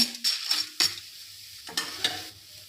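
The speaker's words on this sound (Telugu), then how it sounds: "మినపప్పు కూడా ఫ్రై కావాలి" Urad dal frying in hot oil for curry leaf powder, crackling sizzle broken by several sharp scraping stirs of a spoon against the pan, close up with no talking.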